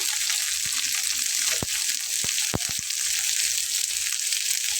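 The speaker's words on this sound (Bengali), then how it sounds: "এখানে চিকেনগুলোকে দিয়ে দিচ্ছি। এবং আলুগুলোকে দিয়ে দিচ্ছি।" Chicken pieces and potatoes go into a hot pan over fried onions and sizzle loudly and steadily, with a few sharp clinks and scrapes from a utensil stirring.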